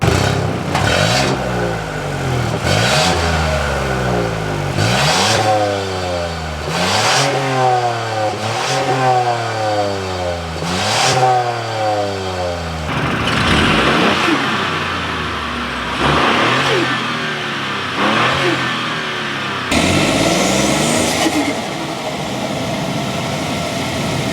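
A 2024 Ford Escape's three-cylinder engine revs again and again, each burst climbing then dropping, with a throaty exhaust note and whooshing releases between pulls, loud and close.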